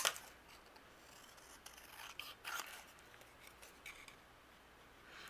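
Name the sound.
scissors fussy cutting stamped paper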